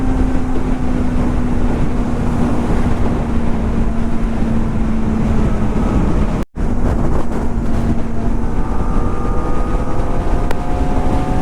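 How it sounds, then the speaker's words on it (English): Three motorcycles, a Kawasaki ZX-4R, a Yamaha R3 and a KTM RS 457, cruise on a highway, heard as a steady engine drone under heavy wind rush at the microphone, with a brief dropout midway. "Just see the way all three bikes are cruising on this beautiful highway."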